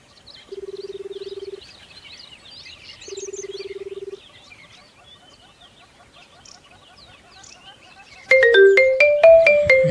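A mobile phone ringtone for an incoming call rings twice as a steady electronic tone, clear and near, with faint chirping outdoor ambience between rings and a burst of loud melodic tones at the end.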